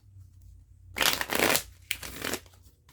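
Two bursts of tarot card shuffling, a riffle around the middle and another shortly after, crisp and close with a short quiet gap between.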